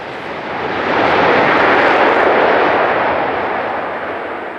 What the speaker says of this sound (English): an aircraft that has enthralled its many admirers for so long taxis home one last time